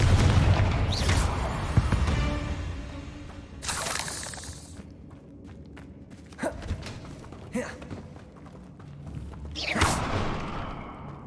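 Confringo spell blasts in the video game Hogwarts Legacy: several sharp explosive booms and shattering bursts spaced across the stretch, loud and close, with quieter rumbling game ambience between them and no speech.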